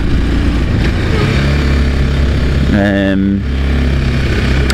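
A 2004 Kawasaki KL250 Super Sherpa dual-sport motorcycle rides along on road with a steady single-cylinder engine drone and wind rush, plus a brief rising rev mid-way.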